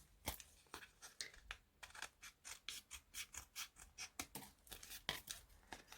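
Scissors snip repeatedly at a ribbon end in a quiet craft room, a quick irregular run of crisp, close, soft cuts and rustles with no voices.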